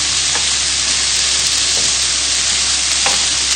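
Onions fry in a pan with a loud, continuous sizzle and hiss close by, with a few faint clicks of stirring and no talking.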